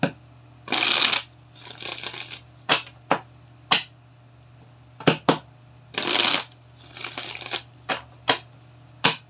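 Tarot cards are shuffled loudly and close by for a Leo reading, with two bursts of riffling followed by sharp single card slaps and taps, and short silences between them.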